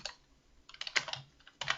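Quick, uneven keystrokes on a computer keyboard while naming a folder for a Minecraft Bukkit server, a few clustered clicks close by and quiet with short gaps between them.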